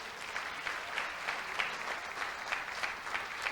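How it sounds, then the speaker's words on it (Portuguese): A church congregation claps together in steady, rhythmic applause, even and moderately quiet, continuing without a break. "Vamos aplaudir o Senhor Jesus?"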